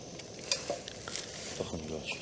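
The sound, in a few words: food frying in oil in a pan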